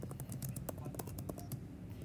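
Typing on a computer keyboard, a quick irregular run of close clicking keystrokes, quiet and steady throughout with no talk.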